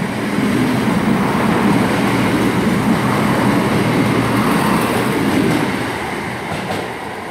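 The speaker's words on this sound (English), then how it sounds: "passing through now is a service from Cardiff Central to Nottingham" A passenger train on the Cardiff Central to Nottingham service passes through Five Ways station, producing a loud, steady rolling rumble with a faint rail clatter that eases slightly near the end.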